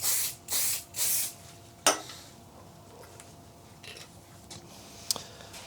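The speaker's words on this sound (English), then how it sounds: "Use some activator." Activator sprayed onto a wooden platter turning on a woodworking lathe: three short, bright hissing bursts in a row, followed by a sharp knock and then quieter clicks and light handling noise.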